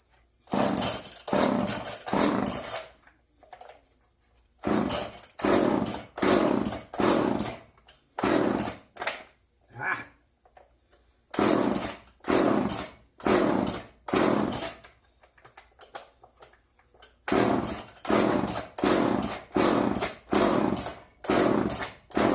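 Repeated pull-cord yanks on a neglected chainsaw with suspected carburetor trouble, coming in fast bursts of ratcheting pulls separated by short pauses; the engine never catches and runs, and nobody talks.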